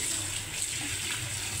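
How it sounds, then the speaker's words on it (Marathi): Tap water runs steadily over poha held in a sieve, a close, continuous splashing rush with no pauses and no voices. "धुवून घेऊया पोहे, एकदम स्वच्छ धुवून घ्यायचे"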